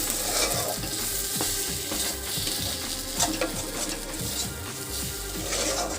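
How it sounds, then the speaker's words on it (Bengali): Paneer masala with cashew nuts sizzling and frying in a kadai while a spoon stirs and scrapes the pan, close and continuous with irregular clinks over the hiss. "এবার এটাকে এই মশলাটার সাথে একটু মিশিয়ে নেব।"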